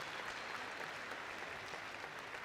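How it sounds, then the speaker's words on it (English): Crowd at a university commencement ceremony applauding, a dense steady wash of clapping from a large audience, fairly distant and even throughout. "One more round of applause."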